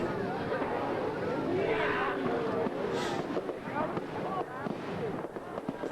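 Fireworks at a nighttime Epcot show in Florida pop and crackle at a distance beneath a continuous wash of crowd chatter and wind noise.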